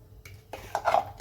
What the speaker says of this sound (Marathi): आता ना मी कढई ठेवली गॅसवर कढई गरम झाले तेल घालून घेते मी कढईत